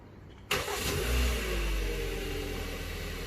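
A 2016 Kia Optima engine starts by remote, cranking abruptly then settling into a steady idle close by, with no voices.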